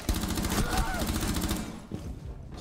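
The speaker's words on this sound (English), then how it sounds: "I think they're shooting up front a little bit." Rapid gunfire bursts in the tactical shooter game Rainbow Six Siege, dense automatic shots for about two seconds, then fading into quieter scattered sounds, with a player talking over it.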